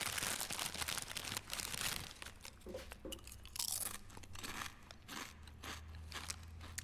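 Crunchy munching sound effect in a song, with repeated bites and chewing crunches throughout, loud and close over a low musical bed, with no voice.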